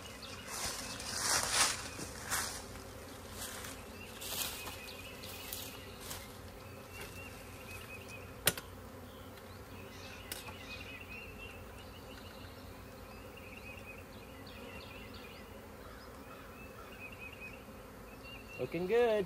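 Honey bees buzzing steadily around a newly hived swarm, a soft, continuous hum close by with occasional louder passes near the listener and a few faint thumps.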